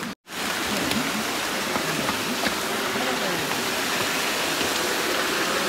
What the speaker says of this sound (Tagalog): Yung ampas ng tubig.